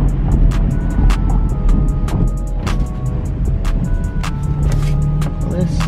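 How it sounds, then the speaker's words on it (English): A 500-horsepower Chevrolet Camaro 2SS does a short burnout while pulling up: a loud, steady engine drone with sharp crackling bursts and a rough rumble that holds for several seconds. "we can do a little burnout right here as we pull up"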